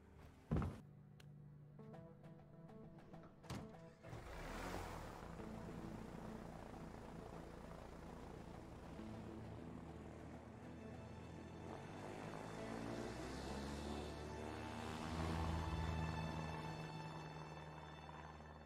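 Airplane engine in the video game A Way Out, a steady droning hum that builds after a few knocks and thuds and holds for many seconds, growing slightly louder near the end.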